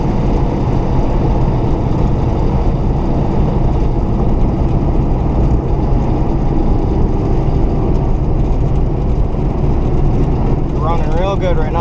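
A 1969 Buick Special Deluxe drives at about 50 mph, heard from inside as a loud, continuous low engine and road drone that holds steady throughout, with a voice briefly near the end.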